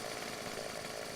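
A chainsaw in the video game Final Fantasy XIV buzzes with a steady, dense motor whine, continuous and fairly faint, with no talking.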